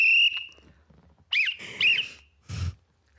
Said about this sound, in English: That's the premature whistle